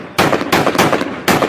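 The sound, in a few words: gunfire at a helicopter in news footage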